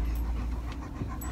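A dog pants in quick, steady breaths close by. The panting runs continuously at a low level with no talk.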